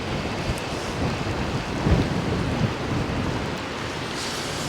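Strong storm wind buffets the open riverbank, a dense roaring rumble battering the microphone with gusts swelling and easing throughout, no voices.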